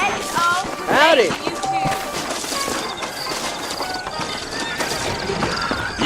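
Saddled horses in the Red Dead Redemption video game give a loud, close whinny followed by softer snorts and clip-clopping hooves, with characters talking over much of it.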